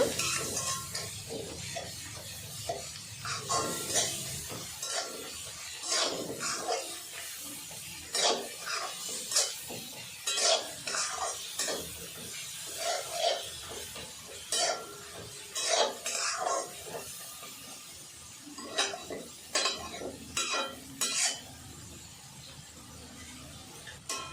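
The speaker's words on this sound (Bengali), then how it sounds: "সব কিছু ভালো করে নাড়াচাড়া করে নেব আদা রসুনের কাঁচা গন্ধটা বেরোনোর জন্য" A spoon repeatedly scrapes and clinks through ginger-garlic paste in a pan for dum aloo, with irregular metallic strokes over a faint sizzle, close and steady throughout.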